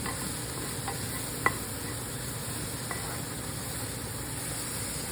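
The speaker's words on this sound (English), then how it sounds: "so I wanna make sure that everything mixes really well together" Beans being stirred and mixed with olive oil and spices in a pot, a steady soft scraping and sizzling texture with a few light utensil clicks, one sharper tap standing out; no talking.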